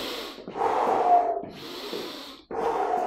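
Forceful breaths pushed out by someone in the middle of a home HIIT fat-burning circuit: two long, close, breathy exhales separated by a short pause, with no talking.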